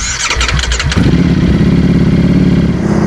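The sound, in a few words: Ducati Panigale V4 motorcycle engine starting up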